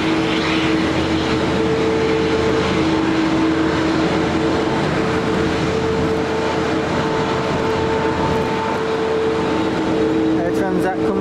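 An Air Transat airliner comes in to land at Manchester Airport in heavy rain, a steady engine roar with sustained tonal hums blending into constant rainfall noise, with a brief higher rattle near the end.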